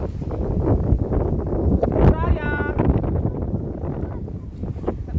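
Powerful typhoon winds from Typhoon Carina roar and buffet the microphone in a dense, continuous low rumble, with a brief whistling squeal midway and a voice speaking over the gusts.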